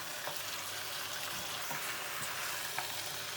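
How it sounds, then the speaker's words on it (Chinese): Sliced ginger and pork ribs stir-fried in a wok give a steady, fairly quiet hissing sizzle with a few soft scraping stirs, heard alone without talk. "加入我们切好的姜，一起煸炒。"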